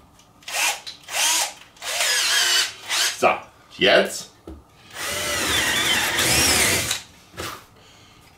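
A power drill bores into wood in a home workshop, with several short whirring bursts followed by one long steady run of drilling, loud and close. Someone speaks briefly in between.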